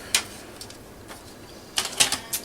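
Paper for a page of a mini accordion album is cut, with sharp clicks and snips spaced apart, then a quick cluster of cuts close by against a quiet room.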